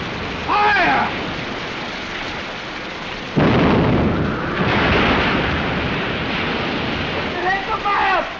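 A single cannon blast from a period film set on Shark Island in 1936: a loud, booming broadband roar erupts midway and rumbles on for several seconds, with brief shouted voices heard before and after.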